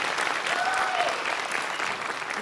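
A crowd claps through a brief burst of applause at a community college commencement ceremony, a fairly soft, steady patter heard from a distance with a faint whistle or cheer rising briefly partway through.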